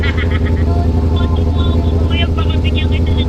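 A Ducati motorcycle carrying a passenger hums steadily along, its engine a constant close rumble while people talk over it.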